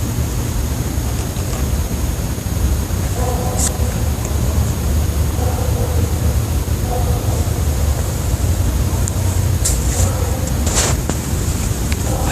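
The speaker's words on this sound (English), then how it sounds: "Engine noise in the sky." A steady low rumble of engine noise fills the sky over a quiet 3 a.m. night in northwest Georgia, continuous and fairly loud throughout, with a wash of broadband noise and faint higher tones drifting in and out.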